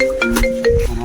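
A mobile phone rings with an incoming call, a loud close electronic ringtone melody of sustained tones over about a second.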